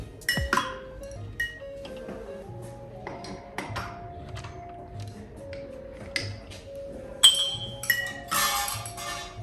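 During a coffee cupping, a metal spoon is rinsed in a glass, giving repeated light clinks and pings at irregular intervals, close and fairly quiet, with brief sharper clatters near the end.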